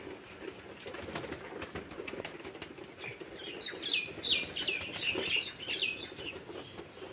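Pigeons and other birds at a pigeon farm, with repeated wing flaps and fluttering up close, then a cluster of high chirping calls joining in the middle and continuing, no talk.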